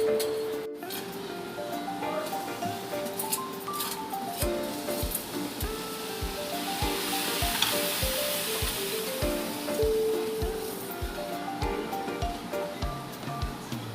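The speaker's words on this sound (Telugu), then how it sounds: "పాలు మరుగుతున్నాయి కదండి, బాగా ఒక 5 నిమిషాలు మరగనిద్దాం పాలని బాగా." Milk boiling in a pot on a stove, a steady bubbling hiss with a dense run of soft rapid pops, fairly close and continuous, with faint background clatter and no speech.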